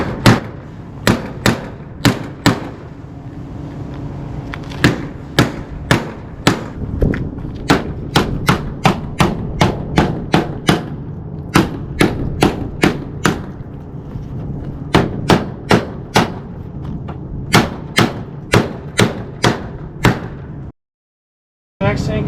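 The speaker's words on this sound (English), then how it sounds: "take a block of wood and a hammer, and this just gets snapped into place." A hammer knocks on a wood block, snapping a metal cap into place on a metal-framed polygon skylight: a long series of sharp, evenly spaced knocks, close and loud, ending in a brief silence and one last knock.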